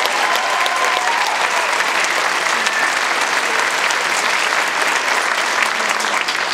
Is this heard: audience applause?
yes